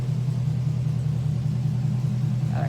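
A car engine fitted with Borla exhaust rumbles nearby in a steady, deep, throbbing drone that stays even from start to finish, with no clear rise in pitch.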